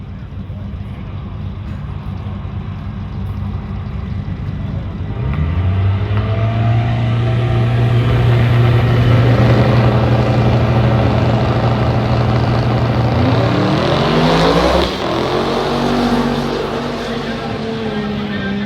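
Old beater cars launching at the Duck Tape Drags drag race: a steady engine drone swells into a loud, sustained roar as engines rev hard, then another rising rev surges near the end.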